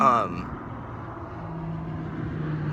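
A car drives past outdoors at Red Rocks, a low engine rumble rising gradually as it approaches, heard under a person talking at the start.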